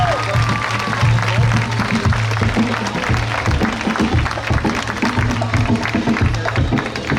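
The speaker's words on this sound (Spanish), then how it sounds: "Eso es el aplauso que les pueden dar." Spectators at a kids' street dance competition clap steadily in a continuous wash of applause, while a low thumping music beat runs underneath and voices murmur in the crowd.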